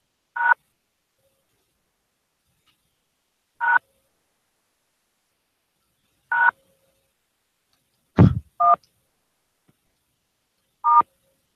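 A telephone keypad sounds six short, clean DTMF beeps spaced a few seconds apart while dialing into a voicemail menu, clear and isolated against silence.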